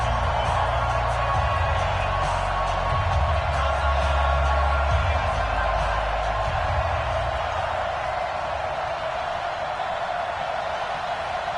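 A big stadium crowd in an EA Sports NFL video game roars with a constant, loud cheering wash before a Houston Texans versus New England Patriots matchup, steady throughout with a commentator speaking over it.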